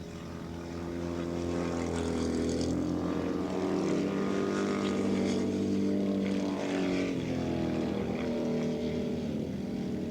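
Harley Davidson and Ducati racing motorcycles at the 1986 Battle of the Twins at Willow Springs raceway, engines droning loud and steady with shifting pitch over about ten seconds.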